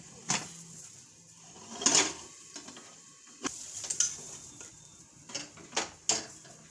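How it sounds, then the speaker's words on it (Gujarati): A pressure cooker lid is fitted and closed over sweet potato curry, a series of sharp metallic clicks and scrapes at close range, spaced irregularly. "હવે આપણે કુકરનું ઢાંકણું બંધ કરી દેવું।"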